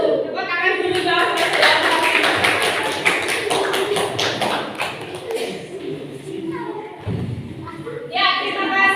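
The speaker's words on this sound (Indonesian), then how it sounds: "Tepuk tangan dulu dong." Students in a classroom clap their hands together in a burst of overlapping claps, fairly close and loud, tapering off after a few seconds as a voice begins speaking near the end.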